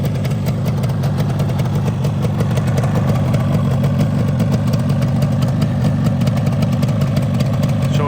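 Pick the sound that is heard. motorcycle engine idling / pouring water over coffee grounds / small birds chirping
motorcycle engine idling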